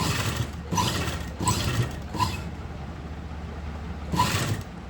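A sewing machine stitching pleats on a kurti runs in short mechanical bursts, a close rattling whir that rises and pauses several times, with quieter gaps in between and no talk.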